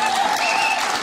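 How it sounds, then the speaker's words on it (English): A brief burst of applause from a live comedy audience, dense clapping filling the whole moment at steady loudness. "So a round of applause."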